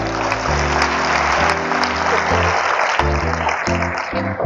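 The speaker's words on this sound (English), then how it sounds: "Let's give it a big round of applause." A conference audience applauds at a project-management session, producing dense continuous clapping at full strength that tapers slightly at the end.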